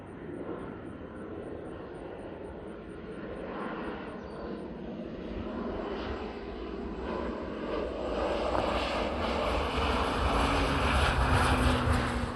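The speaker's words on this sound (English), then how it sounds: "the video you just saw is crop dusting with a plane" A crop-dusting plane flies over a bean field, its broad engine drone steady at mid distance and slowly growing louder and nearer toward the end.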